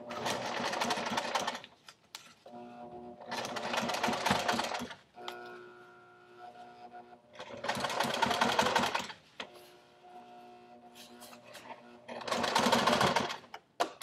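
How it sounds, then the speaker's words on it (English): A sewing machine stitches a patch onto an umbrella tote in four separate runs of steady, close whirring, while someone talks between and over the bursts. "you might want to just go really slow so that you can get a crisp line with your sewing."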